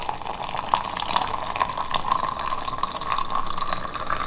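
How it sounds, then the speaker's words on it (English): Hot water poured slowly over freshly ground coffee beans, a steady close trickling splash lasting several seconds with no talking. "Now I do a nice slow pour of these beans, slowly soak these beans."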